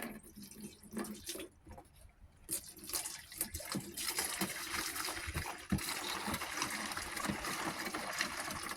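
Oil flows from a hand pump fitted to a 55-gallon drum as a continuous, close liquid trickle and gurgle, building in strength over several seconds amid faint handling clatter and no talk.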